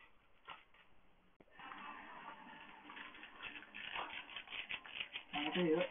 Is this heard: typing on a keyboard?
yes